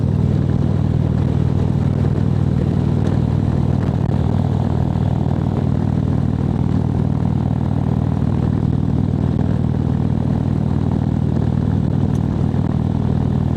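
Motorcycle engine running steadily on an open road ride, a continuous low droning rumble with wind noise, fairly loud and even throughout with no talking.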